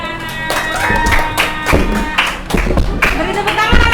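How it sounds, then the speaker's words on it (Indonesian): Children in a classroom clap their hands together in short bursts, with sharp irregular slaps sounding close and fairly loud while voices carry on over the claps. "Oke, beri tepuk tangan anak-anak."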